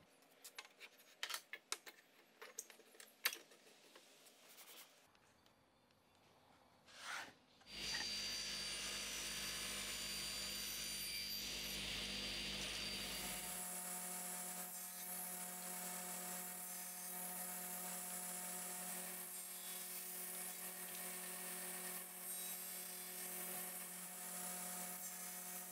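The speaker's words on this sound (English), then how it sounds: "To cut the segments, I'll use my wedgie sled on the table saw" A table saw fitted with a wedge sled cuts wood segments. After some light clattering and tapping, the motor spins up with a surge and settles into a loud, steady high whine that runs continuously.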